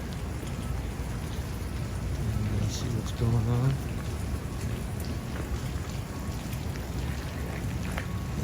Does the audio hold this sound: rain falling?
yes